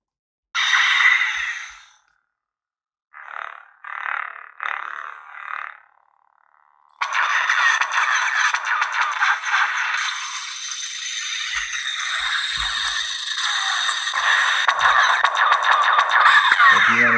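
A Korbanth Malak toy lightsaber sparks on with a whooshing ignition, short bursts of buzzing, then a loud sustained crackling hum that continues steadily.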